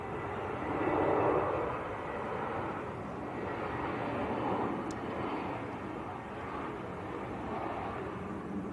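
EasyJet airliner arriving at Manchester Airport from Rovaniemi, a steady broad jet roar held at moderate distance for the whole stretch, swelling slightly early on and then holding level with no voices.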